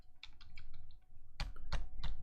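Typing on a mobile computer keyboard: a quick run of light key clicks followed by a few louder, heavier key presses, close and clear with no talking.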